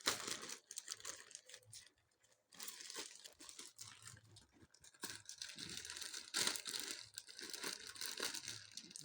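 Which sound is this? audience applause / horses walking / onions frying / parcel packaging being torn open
parcel packaging being torn open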